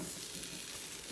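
French toast fries in a pan with a steady, close broadband sizzle that runs unbroken and fairly soft throughout, with no voices.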